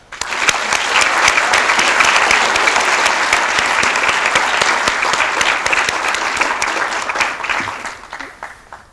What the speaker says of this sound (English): join me in a round of applause for all the members of NJ20171, especially our core staff